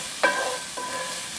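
Brussels sprouts and onions with cayenne pepper sizzle in a hot cast iron skillet, a close, even frying hiss opened by a sharp metallic clink, with a softer knock later.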